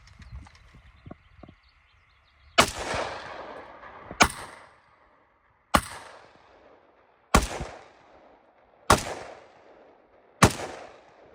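Six sharp rifle shots from a WBP Jack AK firing Chinese ammunition, evenly spaced about a second and a half apart, each loud crack trailing into a short outdoor echo, with faint handling clicks before the first.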